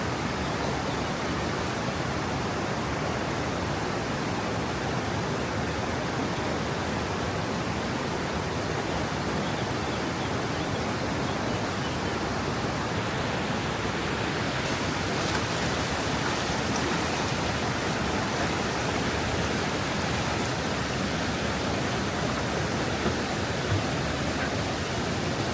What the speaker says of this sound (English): There's a small waterfall there.